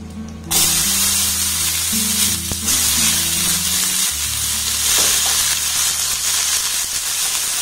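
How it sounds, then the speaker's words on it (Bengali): Chopped onions dropped into hot oil with whole cumin give a loud, steady sizzle that swells suddenly, then keeps frying close up with faint stirring and clinks of a utensil. "এবার 2টো বড় সাইজের পেঁয়াজ টুকরো টুকরো করে কেটে নিয়েছি, এটাকেও দিয়ে দেবো।"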